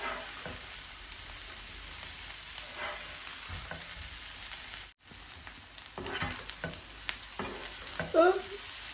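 Food for a London-style dumpling dish being stirred and fried in a pan, with a soft continuous sizzle and occasional scraping stirs close by, no voices.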